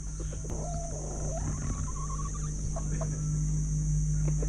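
Roosters crow and chickens cluck in Chiang Mai, Thailand, as a rising crowing call and scattered clucks at moderate distance over a constant loud hum and insect-like drone.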